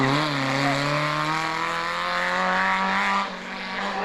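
Renault R8 Gordini rally car, number 17, prepared by the Muraté workshops near Villemur-sur-Tarn, driving hard at a rally. Its engine holds a loud, steady, high-revving note that dips slightly near the end.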